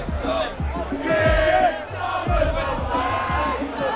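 Large crowd of protesters marching through an English street, a continuous roar of chanting and shouting voices with rhythmic bursts, close and loud throughout.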